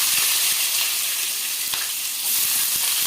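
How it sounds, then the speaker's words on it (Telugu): Sliced onions frying in a pan with curry leaves, a steady loud sizzle filling the whole stretch with faint stirring clicks, close up and without speech. "ఇప్పుడైతే ఉల్లిపాయలు వేసేసుకుందాము"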